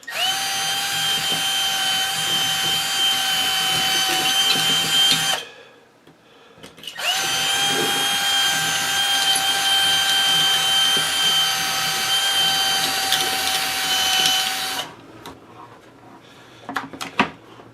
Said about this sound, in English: What I did is I drilled that out and I got a substitute nut and bolt here.